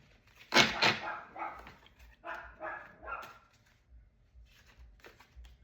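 A dog barks outdoors at a distance, a few sharp barks in a quick cluster followed by scattered quieter yips, fairly faint with no talk over them.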